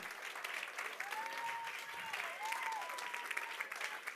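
A church congregation claps and cheers during a live service, a continuous wash of applause with a few raised voices and a sung or shouted tone rising over it, moderately distant.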